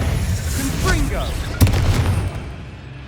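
In Hogwarts Legacy, a Confringo fire spell goes off with a sharp, close explosive boom that decays into rumble, after a voice briefly speaks.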